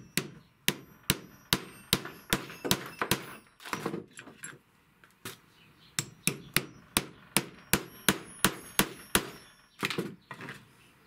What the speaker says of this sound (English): put this in our flaring die jig, and you give it a couple shots with the hammer to curve the top edge around